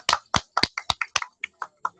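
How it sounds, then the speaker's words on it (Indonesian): A small group of students gives a classmate a brief, sparse round of clapping, about a dozen separate claps in an uneven rhythm that fade toward the end, close and fairly quiet. "Tepuk tangan dong buat Judan ya."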